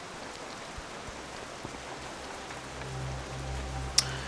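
Rain falls in Tearsfog Lakes in Classic World of Warcraft as a soft, steady hiss with a few faint drip-like ticks and one brief sharp click near the end.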